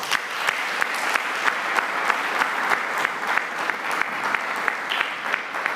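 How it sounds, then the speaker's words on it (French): Steady applause from a crowd at a political party meeting, dense clapping holding at an even level throughout with a few sharper claps standing out. "Est-ce que ça ne vaut pas quelques applaudissements pour Boussa?"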